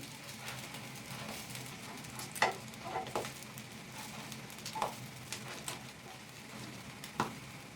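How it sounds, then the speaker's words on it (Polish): Steady sizzling of fish patties frying in a pan over a low flame, with occasional pops and crackles over a continuous hiss. "Smażę około 3-4 minut na niedużym płomieniu."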